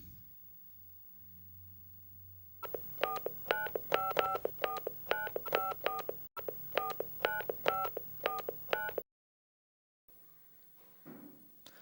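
A telephone number is dialed on a keypad, producing a quick run of distinct beeping tones. They are steady and clear, then break off into silence and faint rustling.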